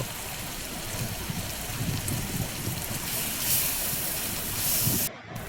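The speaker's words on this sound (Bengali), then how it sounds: "1 চামচ ধনিয়ার গুঁড়া, 1 চামচ জিরার গুঁড়া দিয়ে তেলের মধ্যে কষিয়ে নেব।" Coriander, cumin and turmeric powders fry in oil for a tengra fish mustard curry, giving a steady, dense crackling sizzle like rain that runs unbroken and fairly loud, then cuts off briefly near the end.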